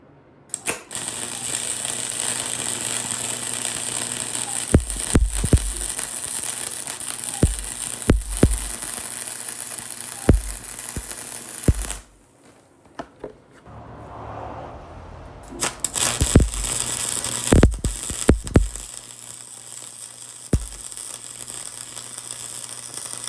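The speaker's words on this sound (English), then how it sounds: "I'm gonna get it filled with weld." Welding on the frame joint of a 1975 Honda XL125 motorcycle produces a steady buzzing crackle in repeated bursts, broken by sharp clicks and a short quiet gap partway through, close and fairly loud.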